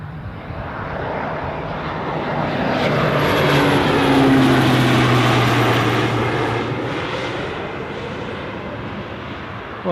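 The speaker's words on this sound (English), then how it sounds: "we've got a British Airways A319 about to turn in on finals" British Airways Airbus A319 on final approach at Newcastle Airport, its engine roar building to a loud peak midway and then easing off, with a low droning hum underneath and no voices.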